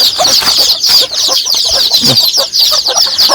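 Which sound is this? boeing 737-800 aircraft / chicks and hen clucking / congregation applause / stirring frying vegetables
chicks and hen clucking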